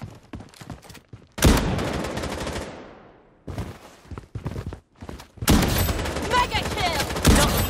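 Rapid automatic gunfire from the mobile shooter Project: Bloodstrike, loud close bursts separated by short pauses, ringing off between volleys, with a voice speaking intermittently.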